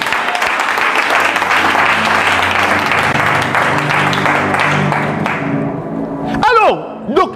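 A church congregation bursts into loud sustained applause and cheering, dense clapping filling the room before thinning out, with voices calling out and a sweeping vocal whoop near the end.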